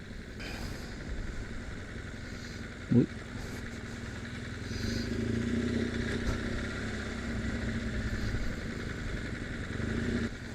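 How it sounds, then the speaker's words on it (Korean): Many motorcycle engines rumble and idle nearby at Jamsu Bridge in Seoul, with traffic noise throughout and a brief clatter partway through. "저기에 오토바이 많네요."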